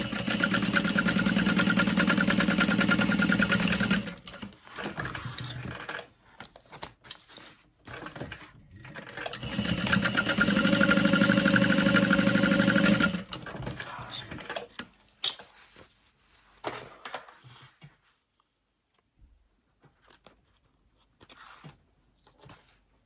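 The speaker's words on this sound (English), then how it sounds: "And we're just going to sew along the short sides." An electric sewing machine stitches along the short sides of a felt tote bag in two long steady whirring runs, separated and followed by quieter gaps with handling noises and a few short bursts.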